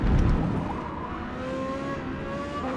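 Ferrari V8 race car in a rainy Forza Motorsport multiplayer race, engine droning and shifting pitch as it accelerates, with tire and spray noise, loud and steady throughout.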